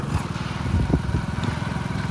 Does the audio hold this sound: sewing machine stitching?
no